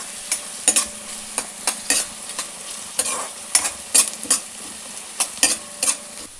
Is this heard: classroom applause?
no